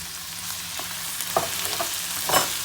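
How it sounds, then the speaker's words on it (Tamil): Ginger garlic paste and tomato sautéing in a pan for pepper chicken gravy, a steady sizzle with a few scraping stirs of the spatula, close and moderately loud with no voices. "இதையும் ஒரு 5 நிமிஷம் நல்லா அந்த ஸ்மெல், இஞ்சி பூண்டு வாசனை போகிற வரைக்கும் நல்லா வதக்குங்க"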